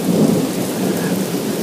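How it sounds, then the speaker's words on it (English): Heavy thunderstorm rain pours steadily while deep, close thunder rumbles loudly throughout, with no voices. "I haven't seen this much rain in a while"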